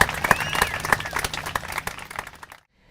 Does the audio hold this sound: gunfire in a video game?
no